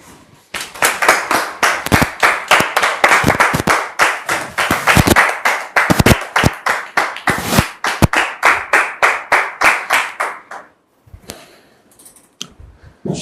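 An audience claps to welcome a guest pastor at a church gathering, a loud, steady rhythmic beat of many hands in unison that keeps going for about ten seconds and then stops abruptly.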